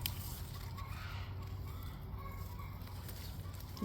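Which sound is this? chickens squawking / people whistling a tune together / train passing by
chickens squawking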